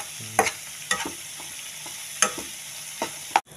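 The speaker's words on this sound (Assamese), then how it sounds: "এতিয়া লগতে পিঁয়াজ ফ্ৰাই হৈ থাকিব, লগতে মাংসখিনি ফ্ৰাই হ'ব" Onions and chicken pieces fry in a pan with a steady low sizzle, broken by a handful of sharp clattering stirs spaced across the few seconds.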